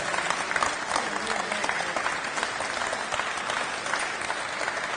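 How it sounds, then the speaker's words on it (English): Lively audience applause at a Windrush 75 celebration at the London Transport Museum, dense and continuous with sharp individual claps standing out, no talking. "we have to give a massive round of applause, right?"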